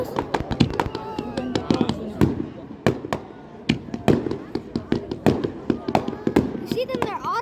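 Fireworks at a fishing marina, a rapid string of sharp cracks and pops, some close and loud, others fainter, with excited voices talking over them.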